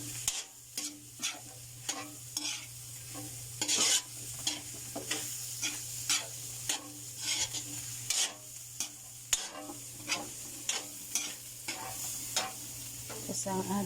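Shrimp mixture for palabok stirred in a hot pan, a spoon scraping in steady repeated strokes over a continuous close sizzle, with no talking.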